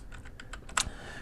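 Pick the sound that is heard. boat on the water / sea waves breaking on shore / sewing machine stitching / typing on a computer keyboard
typing on a computer keyboard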